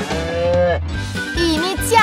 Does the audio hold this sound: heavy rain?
no